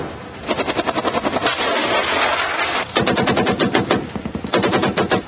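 Bursts of automatic gunfire from ceasefire violations in Jammu and Kashmir rattle in loud rapid volleys, several strings of sharp shots separated by brief pauses, with no voices.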